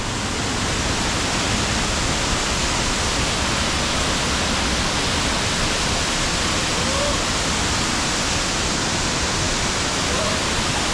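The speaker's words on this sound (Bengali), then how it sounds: "এই যে আমরা নেমে আসছি একদম ঝর্ণার কাছে" Waterfall in Wales, a steady, loud broadband rush of falling water heard up close, constant and unbroken throughout with no voices.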